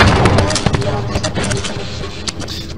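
Pistol and assault rifle gunfire in the Half-Life video game, a dense run of rapid shots and impacts, loud and close, with game noise and someone talking over the firing.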